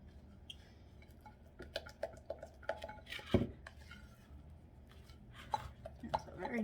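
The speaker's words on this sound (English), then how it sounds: "Just gonna whisk in the food coloring." A whisk clinks and taps quickly against a bowl while red food coloring is mixed into a batch for Christmas baking. The irregular metallic ticks are fairly quiet, with faint background noise.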